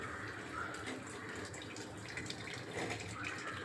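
Faint, steady pouring and trickling water strained off cooked amaranth greens, a soft continuous flow with slight splashing, quiet and close.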